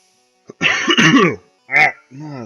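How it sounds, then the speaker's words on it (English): Someone coughs and clears their throat several times in quick bursts, close and fairly loud. "Need to stop coughing."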